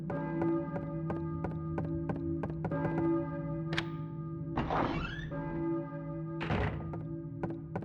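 A church bell rings on in Silent Hill, its sustained tones overlaid by a steady series of hollow footstep-like thunks and a couple of louder scraping bursts midway.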